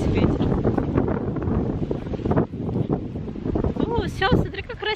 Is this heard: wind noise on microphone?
yes